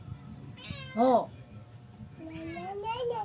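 A cat meows twice nearby: a short meow, then a longer, drawn-out one after a pause.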